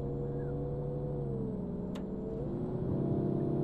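An Iveco low-entry city bus in the OMSI 2 driving simulator kicks down, its mid-pitched diesel engine rising steadily in revs as it accelerates, with a short gear-change dip midway, close and continuous with no voices.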